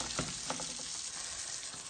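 Tunisian fricassee dough fries in hot oil with a dense, even sizzle and scattered bubbling pops, steady and close for two seconds with no talk.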